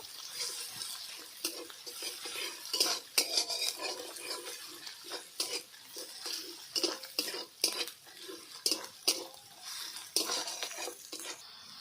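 Garlic paste fried and stirred in a pan for ghugni, with a spoon scraping and clinking against metal in quick irregular strokes over a soft low sizzle, close and fairly quiet, without talking.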